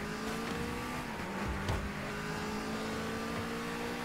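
Car engine in the Rocket League video game on Xbox One X, a steady revving drone with continuous tonal hum running throughout, fairly loud and without talk.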